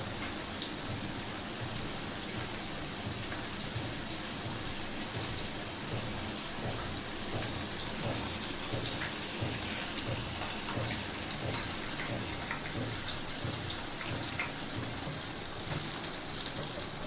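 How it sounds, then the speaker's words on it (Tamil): Masala eggs frying in oil on a tawa give a soft, continuous sizzle and crackle, steady and close with no talk over it. "நம்ம இப்போ வறுத்து எடுத்துக்கலாங்க."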